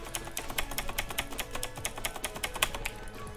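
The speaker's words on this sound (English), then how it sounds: "You're gonna hear a lot of mechanical keyboard noises." Mechanical keyboard keys clack in rapid, irregular bursts of close, crisp taps during fast gameplay of the Flash game Stick War, with no speech.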